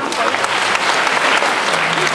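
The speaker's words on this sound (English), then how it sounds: "Let's give a big hand of applause for Dr." An audience at a kindergarten Christmas performance claps in a short, loud burst of dense applause, with faint voices mixed into the crowd noise.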